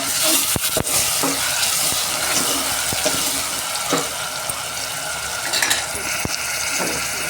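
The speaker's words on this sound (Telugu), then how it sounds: "ఆనియన్ పేస్ట్ కూడా వేసిన ఇప్పుడు మంచిగా కలిపెట్టుకుందాం" Onion paste frying in a pan for a lamb head curry, stirred steadily with a utensil, giving a continuous close sizzle with scraping strokes and no talk.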